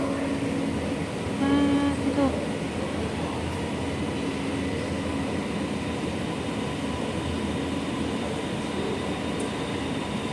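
An underground metro train rumbles steadily nearby in a deep Bangkok station, a continuous heavy drone with a brief tonal whine early on.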